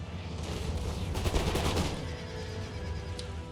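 Musket volleys crackle in Napoleon: Total War, a burst of overlapping shots cracking together in the middle of the sound before settling back into a low battlefield rumble, fairly quiet and without talk.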